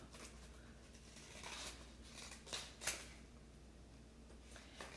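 Scissors cut vintage sheet music paper, giving a few faint, brief snips and paper rustles against a quiet room background.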